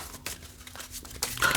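Tarot cards from a pulp movie-poster deck are shuffled in quick papery riffles and crinkly flicks, close and quiet, ending in a brighter burst of card noise.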